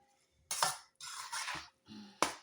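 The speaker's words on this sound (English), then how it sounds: "So now I break down the corned beef in it and I give it a good stir." Metal spoon stirring and breaking up corned beef in a pot, a few separate scraping, clinking bursts with short pauses between them, close and fairly quiet, with no voices.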